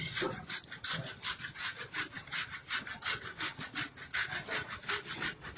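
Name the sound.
pumpkin being grated on a coarse grater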